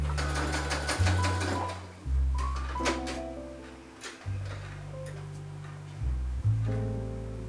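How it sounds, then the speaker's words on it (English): A home sewing machine runs long basting stitches along a fabric ruffle in several bursts, its motor hum starting and stopping with short pauses between runs, close and fairly loud with no talk. "I honestly just sew 2 long basting stitches"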